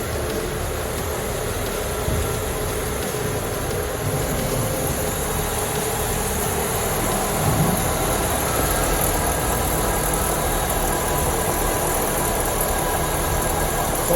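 A 2006 Chevy Malibu with a humming noise from the right side while driving: a constant low engine and road drone with broadband hiss, steady and fairly loud for the whole stretch, no talking.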